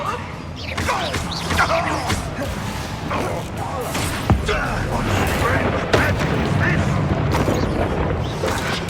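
Confringo blasting-spell explosions in Hogwarts Legacy, a dense barrage of booms, crashes and whooshes layered over each other, loud and continuous, with voices shouting amid the chaos.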